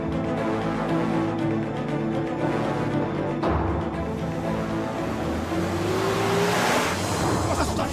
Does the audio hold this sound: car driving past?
yes